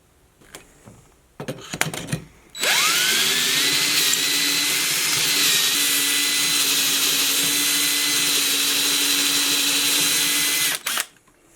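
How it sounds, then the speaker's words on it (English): A power drill whirs steadily for about eight seconds at close range, boring holes in wood for a garden trellis, loud and continuous, after a few short clicks and bumps. "now we're going to go ahead and drill some more on the other side"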